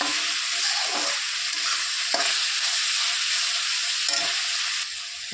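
Dried Bombay duck fish stir-fried in hot oil, a steady close sizzle and crackle of frying with occasional stirring scrapes, continuous throughout with no talking.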